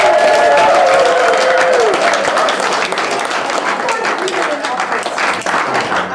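An audience at an art book tour conversation breaks into loud, dense applause and cheering that holds steady throughout, with a voice heard briefly at the start.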